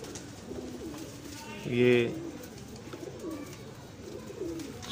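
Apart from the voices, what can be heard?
golden teddy pigeon cooing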